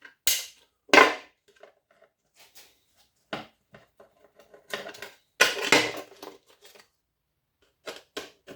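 Copper and brass wire being snipped with cutters: a series of sharp, dry clicks and snaps, some loud and close, others lighter, spaced irregularly with short quiet gaps between cuts.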